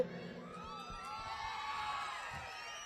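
A crowd at a Yuva Galam padayatra political rally in Andhra Pradesh cheering and clapping, a steady wash of shouts and applause heard faintly from a distance.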